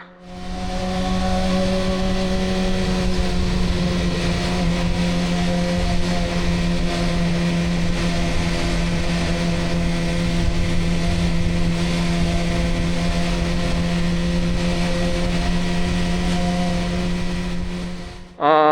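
Motorcycle exhaust droning steadily while riding at a constant pace, a near, even engine note with a strong low hum that runs unbroken for the whole stretch.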